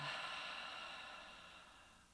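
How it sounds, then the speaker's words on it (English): One long, slow exhale, breathy and close, fades gradually over about two seconds during a guided relaxation. "Exhale, long, long exhale."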